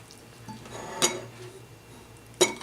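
Spoon scraping and clinking against a pot while scooping quinoa corn chowder from the bottom, two sharp metallic clinks over quiet stirring and faint kitchen hum.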